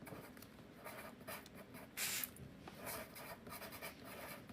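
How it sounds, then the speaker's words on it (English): Pen scratching across paper as someone writes by hand for an art lesson on composition, a close, steady run of soft strokes with a brief louder scrape midway, no talk. "I'm going to try and write neatly for you guys."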